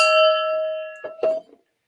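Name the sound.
gong being struck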